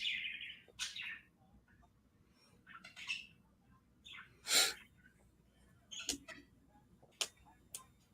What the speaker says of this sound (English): Mr. Best, I can hear your birds.